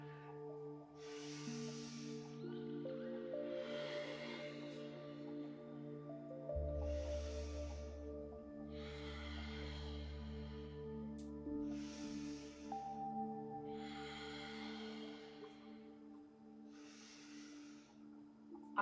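Slow yoga breathing during a flow session: paced, airy inhales and exhales through the nose and mouth repeat about every two seconds, soft and close, over a quiet background of instrumental music.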